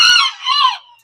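An Old English Game Bantam hen, a lavender birchen female, gives one bright, close cluck-like call that dips and swells for just under a second, then stops.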